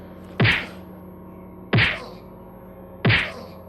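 Three heavy thwacking impacts at a steady interval as a character is hit in the video game S.T.A.L.K.E.R.: Lost Alpha DC, each a sharp punchy hit with a brief ringing tail.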